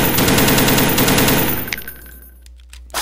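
Browning automatic rifle (BAR) firing in Minecraft, a loud sustained burst of rapid automatic shots for about a second and a half, then fading to quiet with a short final blip.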